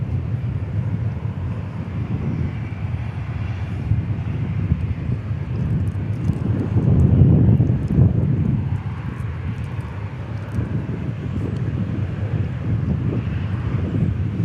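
A Boeing 757 jet airliner during pushback at Dallas Fort Worth airport makes a low, distant engine rumble that swells around the middle and then settles back, with wind buffeting the microphone.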